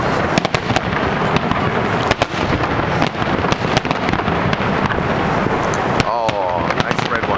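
Fireworks at the 2010 Olympics burst in a rapid, continuous barrage of big booms and crackles, some loud and sharp, with voices of nearby onlookers under the blasts.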